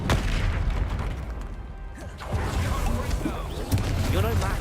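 A Confringo spell explosion in the Hogwarts Legacy video game: a loud booming blast and crash, followed by rumbling debris and scattered combat effects, with voices talking over the action.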